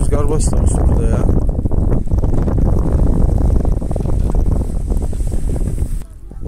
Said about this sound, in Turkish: Bir de rüzgar başlamış burada ya.